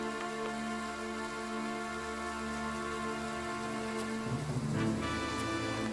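Steady rain hiss under a battle scene in the video game Triangle Strategy, a continuous faint wash of falling drops beneath a humming music bed, with a brief shift near the end.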